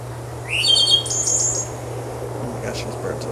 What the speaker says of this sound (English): Gosh, these birds are loud.